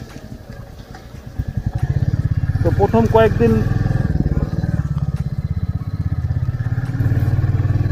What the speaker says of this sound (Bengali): মনে হচ্ছে একটা নর্মাল বাইক চালাচ্ছে